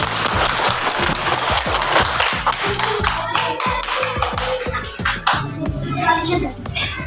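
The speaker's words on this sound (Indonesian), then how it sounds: "tepuk tangan" A primary school class claps together in a maths lesson, a loud, rhythmic patter of many small hands with children's voices mixed in, close and steady throughout.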